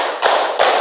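Two sharp, close hand claps sound about a third of a second apart, loud and crisp against a quiet room.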